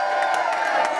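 Crowd at a Don't Flop rap battle in the Fiddler's Elbow, Camden, gives a short burst of cheering and whooping, a dense, lively mass of voices filling the room.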